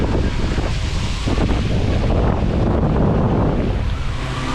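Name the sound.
wind blowing on the microphone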